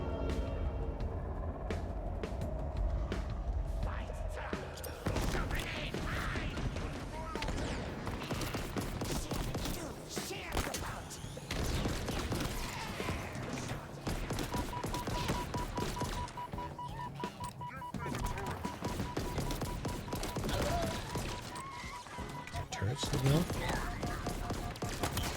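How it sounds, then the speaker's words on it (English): Mounted turret firing during a Halo Infinite campaign battle, a long run of rapid automatic bursts mixed with explosions and dense combat noise, loud and near throughout, with game voices speaking over it. "Oh, the turret is still going"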